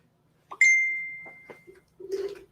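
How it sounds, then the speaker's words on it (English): A phone rings indoors with a single bright electronic chime that holds and fades over about a second, followed by a few short clicks and a brief low rustle. "That's my phone ringing."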